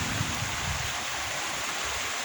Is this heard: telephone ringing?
no